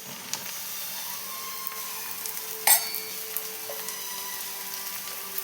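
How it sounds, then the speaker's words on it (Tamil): Chopped snake gourd dropped onto softened onions and sautéed in a pan, giving a steady low sizzle with faint stirring and one brief louder scrape midway; no talking. "இப்போது கட் பண்ணி வச்ச புடலங்காவை சேர்த்துக்கலாம்."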